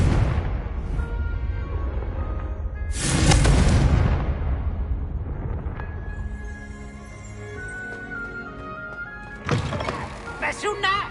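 Fire-blast spell from Hogwarts Legacy, bursting in a loud broadband explosion about three seconds in, followed by a fading rumble and later sharp impact cracks, with game music tones ringing under it.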